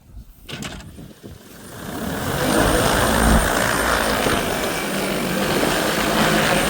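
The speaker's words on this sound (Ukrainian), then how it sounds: "Запускаємо агродрон пішов відлік." An XAG P100 Pro agricultural crop-spraying drone spins up its rotors after a few clicks, rising into a loud, steady, close broadband whir and roar that holds constant through the end.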